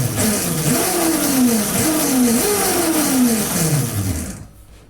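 Electric motor of a no-weld go-kart running under throttle, a loud steady whine with repeated rising and falling pitch sweeps, cutting off abruptly at the end.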